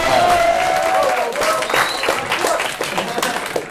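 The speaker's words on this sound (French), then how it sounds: "Oui, vous pouvez les applaudir, hein." An audience applauds at a 2015 comic-book authors' event in Aquitaine, with steady, close clapping throughout and a faint voice or two mixed into the crowd noise.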